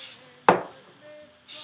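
Two short hissing bursts of spray from a can, one at the start and another at the end, with a sharp thud-like knock between them and a faint background hum.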